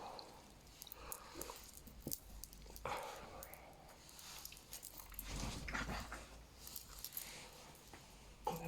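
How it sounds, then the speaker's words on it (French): A nearby excited dog makes soft, quiet scuffling and mouthing noises with faint jingling, like a collar or tags, all at a low level. "Mon chien qui s'excite."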